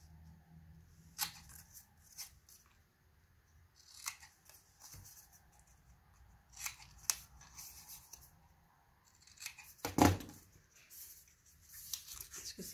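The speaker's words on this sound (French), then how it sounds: "Ah, n'oubliez pas de couper." Scissors cut through paper for a page of a Mintay Sunset Beach scrapbook album, making sparse, close crisp snips and short slicing strokes with quiet pauses between them.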